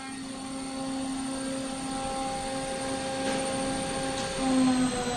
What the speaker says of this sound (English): we've got wood going through the molder, and it's getting spit out the other side